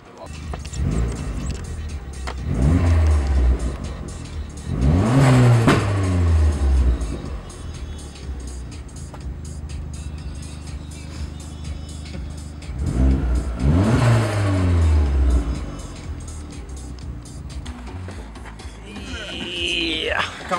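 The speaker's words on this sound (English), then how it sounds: "I'll stop the engine" A car engine idles and revs in a garage setting, with two strong rev swells rising and falling between steadier running, fairly close and loud, with occasional voices nearby.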